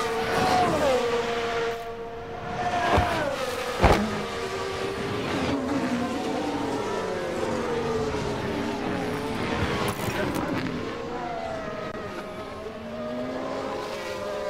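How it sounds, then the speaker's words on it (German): Formula 1 race car engines in F1 Manager 23, a racing game, with a car braking hard while others roar past, engine tones sweeping up and down continuously through the clip alongside a voice talking. "Das hat gerade angehört, als ob er sich verbremst hätte"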